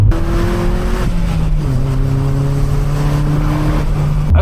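A Honda Civic Type R EP3 engine pulls loudly under acceleration from inside the car, its steady drone rising through gear changes, with no talking.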